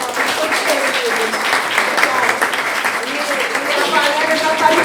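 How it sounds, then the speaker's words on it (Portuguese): Audience applause at a lecture on women's memories of building Brasília, a sustained dense clapping that holds at an even level throughout. "uma salva de palmas aqui pro Coutinho."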